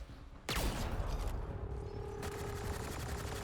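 A burst of rapid automatic gunfire from the Mass Effect Andromeda squadmate Vetra, starting sharply and rattling on loudly in a dense fusillade, with no talk over it.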